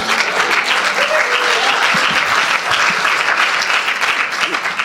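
Sustained audience applause from a crowd gathered at a yacht club event, dense and steady clapping filling the whole stretch at fairly loud level, with no break.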